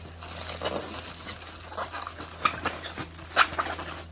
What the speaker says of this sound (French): le casse dans du papier alu,